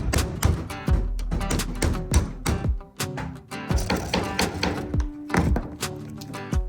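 Hammer blows on rivets in a fiberglass sailboat deck during a Siren 17 restoration, a rapid series of sharp, close, loud knocks in irregular bursts with metallic ringing between strikes.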